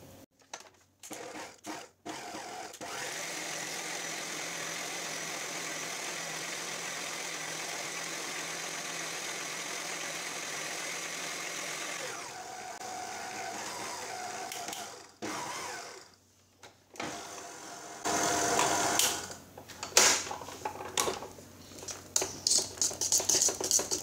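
An electric mixer whips cream for a no-bake chocolate cheesecake, a steady whirring hum running for about twelve seconds, then stopping and restarting in uneven, rattling bursts.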